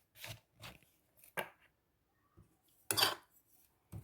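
Flour dough for spinach roti being mixed with coconut oil, heard as a few separate soft, close handling knocks and scrapes in an otherwise quiet kitchen.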